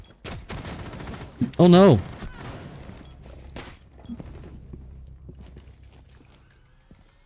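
Gunfire in a video game, several sharp separate shots spread across the stretch, close and loud, with a short exclaimed voice in the middle and quieter game sounds between the shots.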